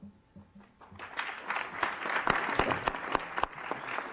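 An audience at a lecture on equality for Black Americans applauds for a speaker. The clapping is steady and dense, swelling after a soft start and continuing at a full, even level throughout.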